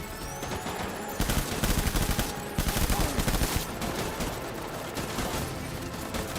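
Submachine gun fire in Death Stranding, with rapid rattling bursts that swell louder in the middle and taper off, continuous and close over several seconds, with no voices.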